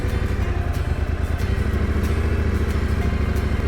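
A motorcycle rolls slowly on light, steady throttle, its engine giving a loud, even, low putter with faint clatter throughout.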